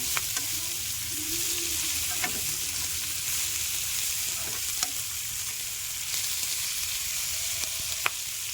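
Tempering seeds fry in oil in a pan with a soft, steady sizzle and scattered small pops and spatula scrapes over several seconds, without speech.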